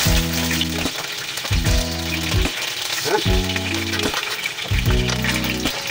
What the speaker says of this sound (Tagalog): dito po sa pinagprituan natin ng chicken ay ipiprito muna natin ng konti yung ating saging saba